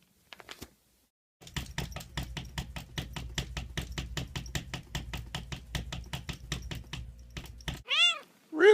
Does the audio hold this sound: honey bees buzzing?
no